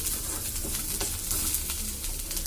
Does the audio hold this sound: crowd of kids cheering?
no